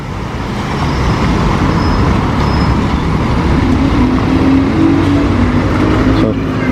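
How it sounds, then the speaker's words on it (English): A lorry loaded with building parts arrives at a construction site beside old railway cottages, a steady rumbling engine and road noise, fairly loud, with a rising tonal whine near the end. "And another lorry full of Lego bits just arrived."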